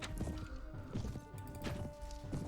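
Horses gallop in the Mount and Blade: Warband Prophesy of Pendor mod amid a battle chase, with repeated clip-clop hoofbeats in quick uneven rhythm and occasional crashes over steady background din.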